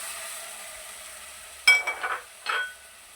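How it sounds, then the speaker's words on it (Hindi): Soaked rice and moong dal tipped into a pan for homemade baby cereal: after a quiet stretch, a sudden soft rattling pour followed by a second short scatter of grains. "ये देखिए चावल जो भिगो के रखे थे ये दाल शामिल कर रहा हूँ"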